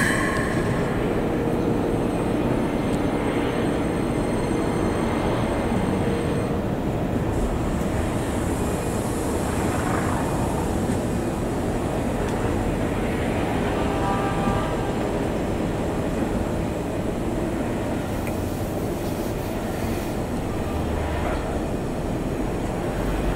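A Keikyu Line train creeps slowly toward a level crossing where a derailment happened, a steady low rumble of wheels and car noise running throughout with faint high squeals.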